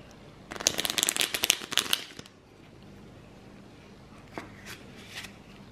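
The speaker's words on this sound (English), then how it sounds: "his shuffling that he's just taught himself to do." A deck of playing cards shuffled by hand in a quiet room, a rapid close riffle of crisp fluttering clicks lasting about two seconds, followed by a few softer card taps.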